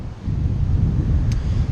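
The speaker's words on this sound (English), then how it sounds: "It's really windy." Strong wind buffets the microphone on a coastal rainforest walk, a loud, steady low rumble with no voices.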